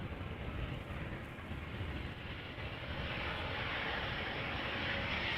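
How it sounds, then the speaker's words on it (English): An Embraer 190 airliner arriving from London City lands at Amsterdam Schiphol Airport, heard as a faint, distant, steady jet engine roar that swells slightly toward the end. "Got a couple of Embraer 190s. This is one coming in from London City."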